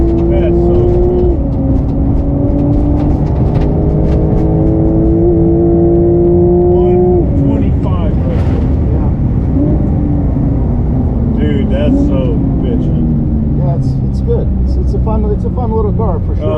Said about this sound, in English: We boosted it up another 100 horsepower, so the turbos come on real hard with a ton of boost